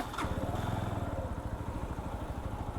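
Mondial Drift L 125 motorcycle pulls away on a ride test, its small single-cylinder engine putting out a steady, throbbing rev close to the microphone with no talking.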